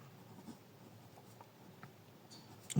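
Faint scratchy marker or chalk strokes on a board during a linear programming maths lesson, a few soft strokes in a quiet room, ending with a louder knock.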